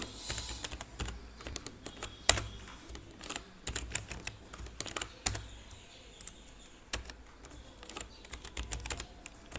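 Fingers type on a computer keyboard while HTML code is entered, giving rapid, uneven clusters of clicks with a few louder key strikes such as Enter or the space bar, all close and clear.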